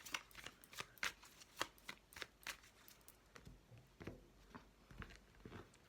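Tarot deck being shuffled by hand for a reading, close and soft, with a rapid irregular run of papery riffles and taps that continues throughout.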